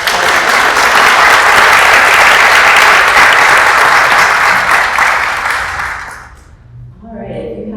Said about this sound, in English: if you can join me in giving them another round of applause